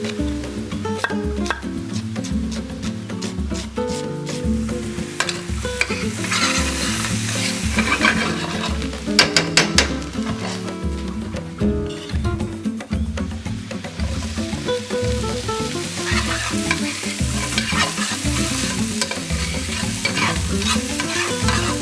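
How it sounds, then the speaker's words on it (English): Onions and mushrooms sauté slowly in olive oil in a frying pan, a loud continuous sizzle and crackle with frequent stirring clatter throughout and no talking. "get them sauteing slowly in my frying pan with a little olive oil"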